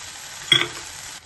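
Green garlic hitting a hot pan for egg bhurji, a short loud sizzling burst that flares up and then settles into a steady softer frying hiss.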